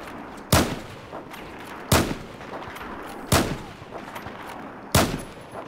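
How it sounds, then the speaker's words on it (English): Four heavy, evenly spaced shots from a machine gun in the Battlefield 4 video game, each a sharp, loud crack with a short decaying tail, separated by pauses of over a second with quieter noise in between. "my machine gun is really opening it up"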